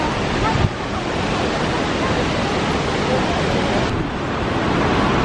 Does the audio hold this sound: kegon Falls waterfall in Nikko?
yes